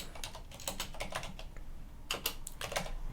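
Rapid typing on an Azerty-layout computer keyboard while setting up Arch Linux, with irregular bursts of close, crisp key clicks and brief pauses between runs.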